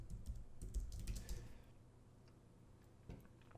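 Quick burst of keystrokes on a computer keyboard as a login and password are entered, close and fairly quiet, fading to near silence with one last tap near the end.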